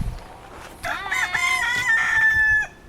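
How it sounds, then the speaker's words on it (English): A rooster crows once close by at a caravan park stop, a loud, strained, rising-then-held cock-a-doodle-doo lasting under two seconds before cutting off, with a quiet background and no talking. "Bye, Rooster."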